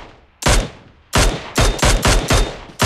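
Sharp tap-fired gunshots in PUBG Mobile: one loud crack, a pause, then four close, evenly spaced shots with short reverberant tails, no talk.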